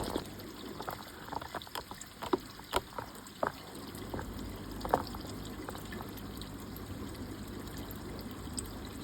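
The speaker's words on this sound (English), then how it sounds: "there we can see the tub is busy filling up" Water runs steadily into a tub during a fish-tank water change for Malawi cichlids, a constant close rushing pour with a few splashy knocks and clunks scattered through it, no talking.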